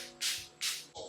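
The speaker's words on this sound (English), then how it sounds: "So I'm just gonna spray some of this onto my face" Rose water is misted onto a face from a spray bottle in two quick, close, hissing bursts, with a softer third puff at the end, all quiet and without talk.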